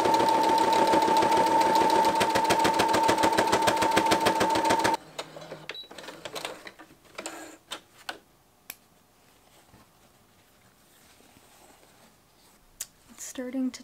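A sewing machine runs a zigzag stitch on muslin cotton fabric, giving about five seconds of steady, rapid ticking with a tonal hum before it stops. Quiet handling sounds and soft clicks follow.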